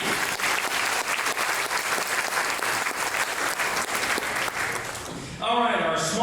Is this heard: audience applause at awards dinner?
yes